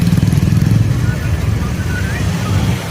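Cars and motorcycles drive past on a busy road in Kondhwa, Pune, a loud, close, continuous engine rumble with a rising motorbike whine partway through, under faint talk.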